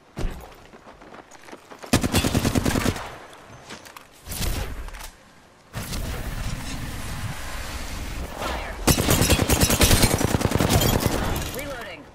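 Rapid bursts of gunfire in a battle royale shooter game, loud and dense, coming in several sustained volleys with short pauses between, mixed with game effects and a player's voice talking over it.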